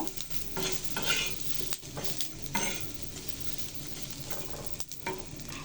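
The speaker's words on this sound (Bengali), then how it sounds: "তো অনেক বড় একটা ছুরির শুটকিগুলো ভাজা হয়ে গেছে।" Dried ribbonfish (churi shutki) fries in a pan with a steady close sizzle, while repeated stirring scrapes and clatters through it and no one speaks.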